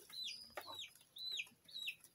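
A nearly broody hen clucks close by in a poultry yard with duck nests. There are four short, rising, nasal clucks in an uneven rhythm, fairly quiet and with no talking.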